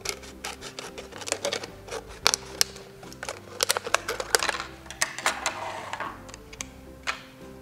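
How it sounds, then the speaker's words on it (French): Scissors pierce and cut around the base of a plastic bottle in a craft session, giving a close, irregular run of sharp snips and scratchy rasps over about eight seconds. "faire un petit trou avec notre ciseau, rentrer notre ciseau et ensuite venir découper le fond de la bouteille"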